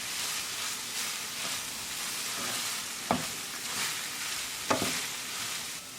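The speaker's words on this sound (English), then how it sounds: "And mix it well." Matar paneer bhurji with cilantro being stirred in a pan: an even background sizzle broken by two distinct spatula scrapes a second or two apart, with no talking.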